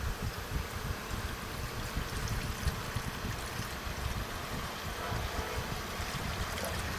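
Water poured into a pan (kadai) on an electric smart steamer, a continuous soft gurgling splash that stays even and close throughout.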